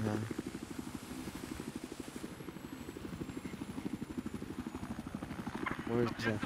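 A helicopter in a video game thumps with a steady, fast rotor chop for the whole stretch, holding a constant level throughout.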